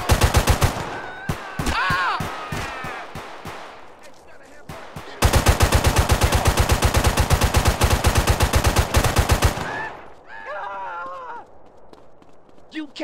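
Rapid automatic gunfire in the video game GTA San Andreas bursts out in long rhythmic volleys, loud and close, with shouted voices and short exclamations breaking in between the bursts and after them.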